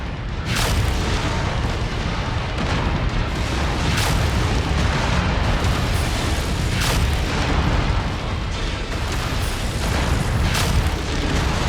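A mech going critical and exploding in MechWarrior 5 Mercenaries, a BNC-3S Banshee battle, brings a sustained roaring rumble of blasts and crashes with several sharp bursts spread through the whole stretch, loud and dense throughout.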